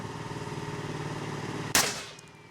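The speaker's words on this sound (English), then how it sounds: "I think that sound is literally just coming from the round's rocket propulsion itself." A pocket rocket launcher round fires with a sudden sharp blast that cuts through a steady buzzing drone of rocket propellant, then the noise decays quickly into near silence.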